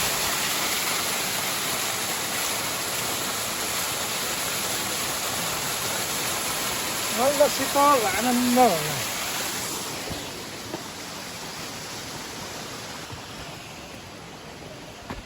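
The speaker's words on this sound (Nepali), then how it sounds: "नेपालको सबैभन्दा ठुलो झरना वाटरफल" Waterfall at Nagarkot, Nepal, a continuous roaring hiss of falling water heard close, with a person briefly speaking over it before the roar fades to a softer, more distant wash.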